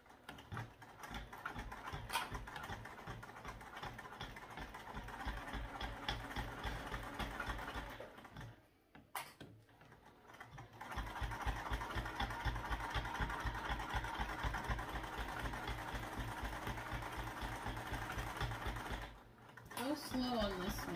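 A sewing machine is hand-cranked over a backpack zipper, giving a slow, irregular run of mechanical clicks and needle thumps with a steady background hum and two brief pauses, heard close and fairly quiet.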